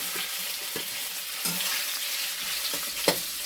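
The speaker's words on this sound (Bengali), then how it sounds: "পনিরটাকে একটু লাল লাল করে ভাজবো" Paneer pieces frying in hot white oil in a wok give a continuous bright hiss and crackle, with scattered soft knocks of stirring and one sharper clack near the end.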